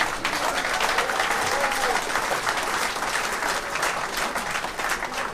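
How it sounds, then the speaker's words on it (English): Audience applause for veterans of the Vietnam era, a dense, steady wash of clapping from a large crowd that holds loud and even throughout with no break. "For each of you, come on, let's hear it"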